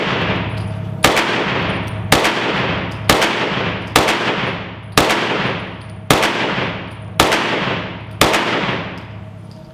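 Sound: gunshots from S&W Shield EZ pistol in 30 Super Carry

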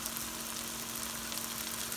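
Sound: sautéing tomatoes with spices in a pan

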